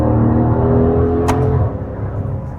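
A Maserati Levante GTS engine revs hard while driving, a loud steady low growl from inside the cabin that eases off near the end, with one brief click partway through.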